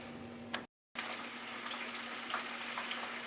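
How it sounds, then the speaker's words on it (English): Sliced potatoes fry in a pan with a steady, soft sizzle that runs throughout, briefly cut by a moment of silence near the start, with a faint hum underneath and no talk. "slice them the regular way and get them in there and fry them"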